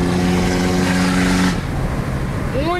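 A chipped Ford F250 with a Cummins diesel engine roars loudly under acceleration, its steady drone falling away abruptly partway through and leaving a rougher, quieter running sound with a faint whine near the end.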